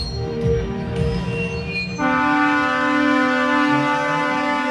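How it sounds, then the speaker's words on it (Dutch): A big carnival parade truck sounds a loud, sustained multi-tone horn, a steady harmonic blast that holds for nearly three seconds after a noisy crowd murmur. "En toeteren kennen ze zeker."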